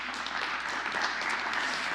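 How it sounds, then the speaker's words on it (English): Steady applause from a church congregation at a Christmas Day service, dense and continuous clapping that fills the whole moment without a break. "Give yourselves a round of applause."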